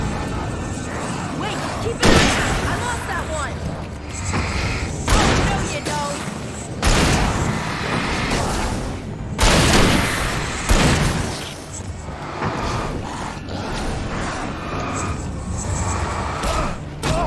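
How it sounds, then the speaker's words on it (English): Flashbangs and gunshots in a video game, a series of heavy booms and thuds spaced a few seconds apart over a busy, noisy background, with a voice talking at times. "Flashbangs and shots"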